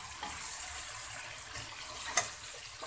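Chicken, onion, garlic-ginger paste, tomato and spices frying in a pot, a continuous soft sizzle and crackle with one small stir or clink, no talk.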